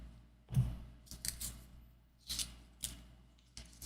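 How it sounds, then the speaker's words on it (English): Scissors snip open trading card prerelease kit packs in a few quiet, separate crisp cuts, each a short rasping slice with pauses between, close by in a still room. "Got my scissors to make this a little easier"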